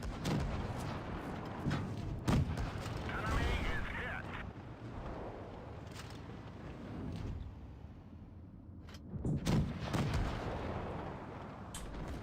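T110E5 tank main gun firing in a video game, several heavy booming shots spaced seconds apart over a rumbling engine bed, with a voice talking in between.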